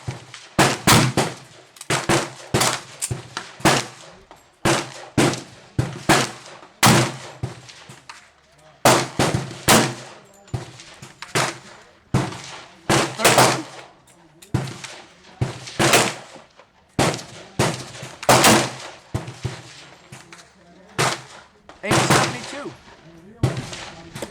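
Pistol shots from a Colt 1911 or Glock 30SF firing Winchester ball ammunition, a long string of sharp, loud reports in uneven bursts with brief gaps, close by at an outdoor range.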